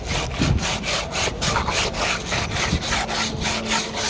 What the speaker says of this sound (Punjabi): ਤਾਰਾਂ ਵਾਲੇ ਬੁਰਸ਼ ਨਾਲ ਰੰਗ ਰਗੜ ਕੇ ਕੱਢਣਾ ਪੈ ਰਿਹਾ ਹੈ